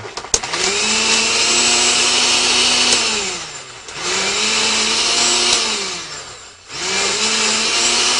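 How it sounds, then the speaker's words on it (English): An Osterizer blender grinding ingredients into a paste for fish, loud and steady whirring in three long runs separated by brief dips as the motor slows and restarts, with no talking. "Now we're going to osterize this, or blend it properly, grind it up, and we'll have a nice paste for our fish"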